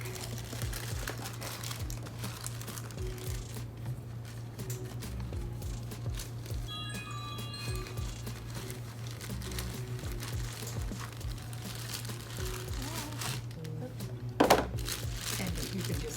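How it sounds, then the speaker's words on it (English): A plastic bag being torn open while baking, with faint intermittent crinkling and rustling under a steady hum, a sharper tear near the end, and people talking quietly throughout. "I'm trying to get the bag open"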